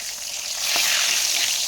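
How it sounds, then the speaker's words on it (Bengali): Pointed gourd (potol) slices frying in hot oil give a steady close hiss and sizzle that swells slightly midway, with a brief utensil tap and no voices. "পটল ভাজাগুলোকে লাল করে ভাজিয়ে খেতে বেশ ভালো লাগে"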